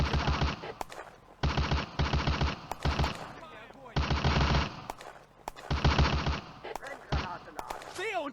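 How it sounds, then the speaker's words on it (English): Machine guns fire repeatedly in a woodland firefight in the video game Firefight, with several sharp bursts of rapid shots broken by brief pauses, plus shouting voices and other battle sounds between the bursts. "The firefight in the woods continues."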